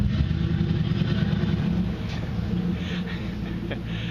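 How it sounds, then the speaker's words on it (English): A rough, loud engine rumbles nearby with a harsh, unmuffled growl, steady at first and easing slightly as it moves on. "every truck in this area sounds like it doesn't have a muffler"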